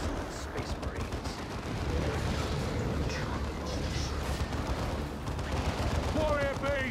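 Gunfire and battle noise from the Warhammer 40k Dawn of War 2 video game, with dense continuous rattling shots and rumbling explosions filling the whole stretch, and game voices heard over the din.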